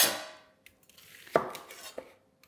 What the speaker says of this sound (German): Und in der Zwischenzeit schneide ich meine Zwiebeln.